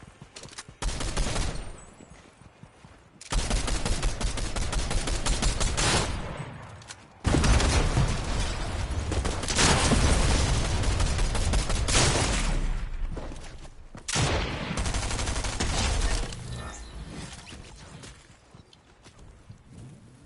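Bursts of gunfire from the Fortnite video game, loud and sustained, with several volleys of rapid shots separated by brief pauses and a booming, dense texture throughout.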